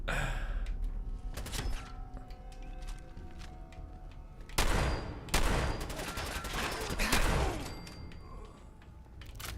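Gunfire in Fallout 4 with the Sim Settlements 2 mod, several loud broadband bursts of shots clustered in the middle of the clip, set against a busy game soundscape with a faint voice now and then.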